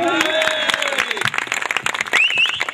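Audience applause at a comedy stage show, a dense patter of many hands clapping throughout, with a voice talking over the start.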